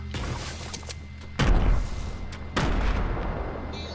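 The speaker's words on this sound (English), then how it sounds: "He sucks at throwing nades." Grenade blasts in a shooter video game, two heavy booming explosions arriving about a second apart over a rumbling background, with sharp crackling shots earlier and no talking.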